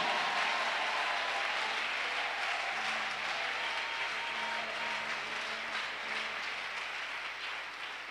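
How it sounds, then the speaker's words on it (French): A church congregation claps for the Lord in a sustained, dense wash of applause that fades slightly toward the end, with some faint crowd voices beneath. "Oh, give the Lord a big clap."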